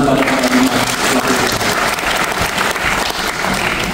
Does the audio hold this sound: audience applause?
yes